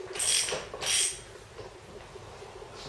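A puller draws an axle off a swing axle gearbox: two sharp metallic ratcheting bursts in quick succession, then quieter scraping and creaks, close by with no talk.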